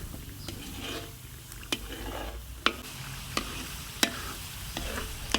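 Coconut milk simmers and splits into oil in a pot while being stirred constantly, a low bubbling sizzle under a run of separate sharp spoon scrapes and clicks at uneven intervals, quiet and close, no voices.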